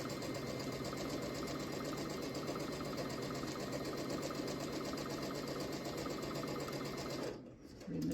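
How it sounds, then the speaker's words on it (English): A sewing machine stitching quilt pieces, a fast, even, continuous mechanical whir heard up close and fairly quiet, stopping briefly near the end. "And I'm going to sew."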